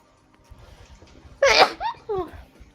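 A single sharp human sneeze bursts out over quiet room noise at a tabletop game session, followed by a couple of short voiced exhalations or giggles.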